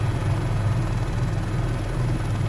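A Cowinsimulation H130 helicopter in Microsoft Flight Simulator sits on dirt ground in the Grand Canyon, its rotor and turbine making a loud, steady low drone with a faint high whine, close and constant.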